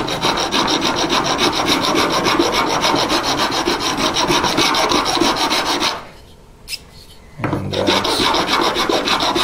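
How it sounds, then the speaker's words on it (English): Coarse double-cut file rasping across wood on a custom electric guitar build, steady close strokes that stop briefly near the end before resuming. "Let's try the file on this other stuff here. Again, this is my double cut coarse file."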